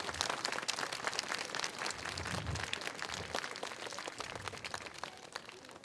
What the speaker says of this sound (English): let's give all those community partners a big round of applause